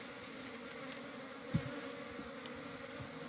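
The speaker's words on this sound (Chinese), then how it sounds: "啊，这蜜蜂。" Local bees with a darkish colouring, partly hybrid with yellow local bees, buzz steadily around a freshly opened hive, a continuous close drone with a brief louder knock partway through.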